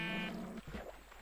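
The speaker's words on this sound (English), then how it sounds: "I wanna get that sheep." A sheep in the Minecraft video game gives a short wavering bleat, followed by brief game sounds over a steady background of moving water.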